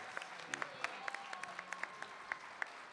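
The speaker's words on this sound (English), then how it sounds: "One more round of applause for our voice actors." Scattered applause from a convention audience after a voice actors panel, faint and distant, with individual sharp claps standing out over a quiet room hum and a faint tone.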